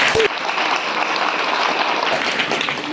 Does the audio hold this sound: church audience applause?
yes